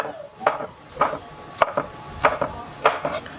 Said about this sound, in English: I'm just going to slice up these mushrooms.